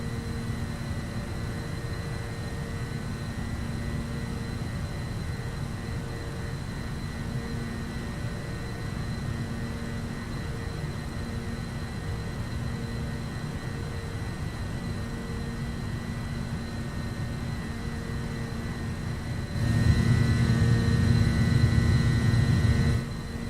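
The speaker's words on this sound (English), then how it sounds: "Lower the nose and set climb power. Climb thrust set." MD-82 jet engines at climb thrust in a flight simulator game: a steady, droning cabin roar with tonal whine and low rumble, swelling louder and rougher near the end.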